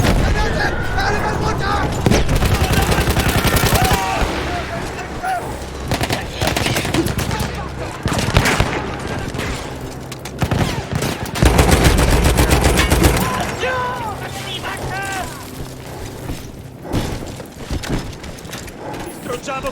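Machine gun fire in the video game Battlefield 1, a dense, loud stream of rapid shots mixed with wider battle noise and bursts of shouting voices, continuing for about twenty seconds.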